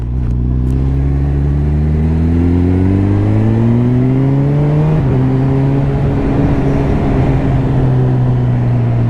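A Honda CB1000R motorcycle accelerates on a road ride, its engine pitch climbing steadily through a gear, dipping briefly at a shift, then pulling again, loud and close with steady wind rush and no talk.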